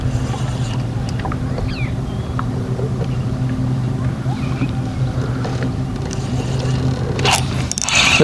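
A boat motor hums steadily close by, a low droning tone that holds throughout, with some scraping and clattering near the end.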